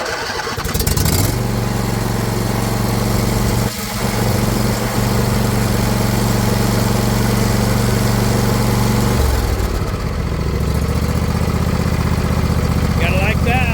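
A John Deere LA120 lawn tractor engine cranks and catches with no choke at half throttle, then settles into a loud, steady running drone close by, with a brief throttle change near the end.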